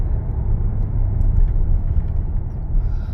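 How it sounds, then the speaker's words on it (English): A large dump truck rolls past with a loud, steady low rumble and engine drone that fills the whole moment, with no voices. "Look how big that dump truck is"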